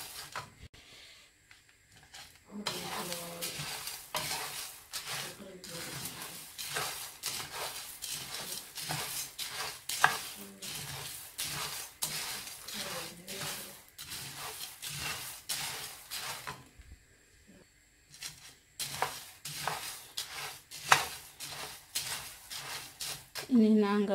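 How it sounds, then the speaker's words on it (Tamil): Coffee ingredients dry-roasting in a pan, with a rapid, continuous rattle and scrape of a spoon stirring against metal for about twenty seconds, pausing briefly once, under a speaking voice. "இதையும் போட்டு இதனுடன் சேர்த்து கொஞ்ச நேரம் சேர்த்து வறுத்தெடுத்து கொள்ளுவோம்."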